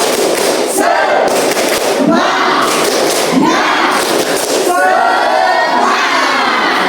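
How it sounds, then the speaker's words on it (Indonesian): Primary school pupils in an Indonesian classroom perform a group spirit clap, with loud, continuous children's shouting and rhythmic clapping in bursts across the whole stretch. "Tepuk semangat."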